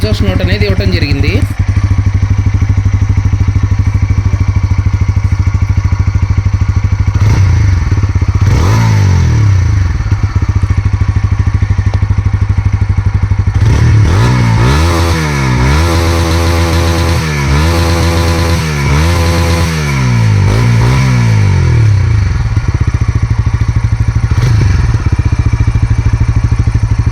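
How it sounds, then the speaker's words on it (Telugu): A TVS Apache 160 4V motorcycle with a bull-pop exhaust idles close and loud, with a few sharp revs blipping up and falling back in the middle of the stretch. "ఈ బైక్ని అయితే ఒకసారి స్టార్ట్ చేసి చూద్దాం."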